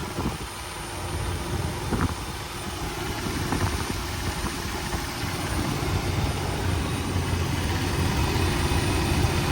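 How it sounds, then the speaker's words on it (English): A used truck at an auction yard idles smoothly, its engine giving a steady low rumble with a constant drone and outdoor wind noise, no voices present. "Engine is very smooth."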